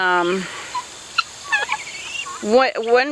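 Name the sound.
chicken calling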